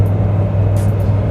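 A 750 rwhp C6 Corvette rumbles with its exhaust cutouts open. The deep, loud idle drone holds steady throughout, close and alone.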